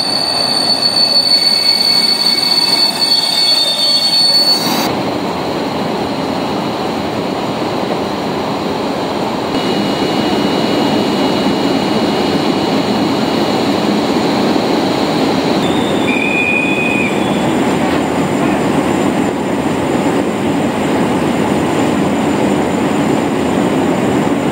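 A train hauled by an EP07 electric locomotive passes through Rawicz station in the evening, a loud sustained rumble of wheels on rails with high metallic squealing tones, close by and continuous, with no voices.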